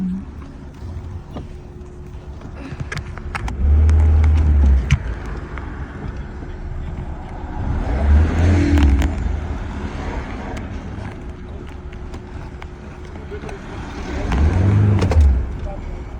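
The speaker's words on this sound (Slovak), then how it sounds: "Vážení diváci, môžete počuť zvuk terénneho auta." An off-road car's engine runs steadily with deep low rumbles that swell loudly three times, near and outdoors, with some speech mixed in over it.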